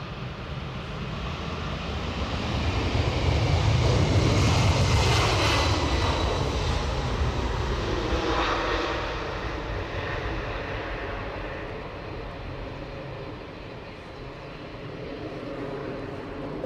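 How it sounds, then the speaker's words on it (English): A Delta Airlines Boeing 767 at full takeoff thrust at Edinburgh Airport, a loud roaring jet engine rumble that swells to a peak and then slowly fades as the aircraft moves off into the distance, with no talk. "Full thrust on our Boeing 767 Atlanta bound in Delta Airlines livery."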